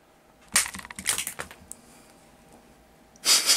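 An egg smashed on a forehead: a sharp crunching crack, followed by a few brief crackly smashing bursts, then another harsh crushing burst at the end; close and fairly loud.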